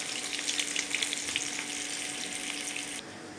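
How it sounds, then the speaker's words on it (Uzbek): Onions frying in a ladle of oil in a pan give a steady, close sizzle with soft crackles, easing down a little near the end, with no one talking. "Birinchi ishimizni tavaga bir cho'mich yog' qo'yib, piyozni qovurib olishdan boshlaymiz."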